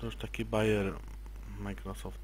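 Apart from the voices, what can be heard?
No everyday noise stands out behind the speech.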